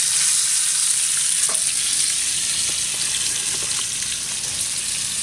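Fish fillets from an Upper Red Lake catch sizzle steadily in hot grease in a pan, a dense continuous crackle with a few faint utensil taps, close and fairly loud, no talking.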